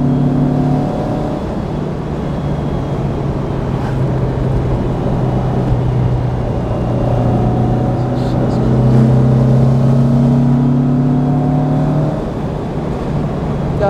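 A 1964 Porsche 356 SC Cabriolet of nearly 100 hp pulls hard while driving, its engine a steady loud drone whose pitch rises and shifts as it accelerates, with no talk over it.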